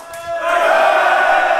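A crowd at a Fortnite LAN tournament finale lets out a loud sustained scream on cue, rising quickly after a brief quieter moment and holding as a dense roaring mass of voices.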